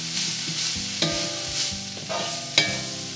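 Vegetables seasoned with salt and black pepper are stir-fried for Hakka noodles, with a spatula scraping and clanking against the pan over a constant sizzle, close and continuous with no voices.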